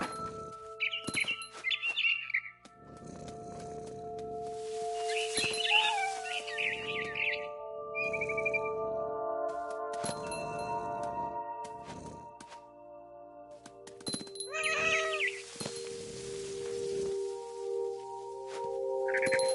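A cat meows repeatedly in the video game What Remains of Edith Finch. The calls are clear and fairly close over game ambience and music, with bird chirps mixed in. Nobody speaks.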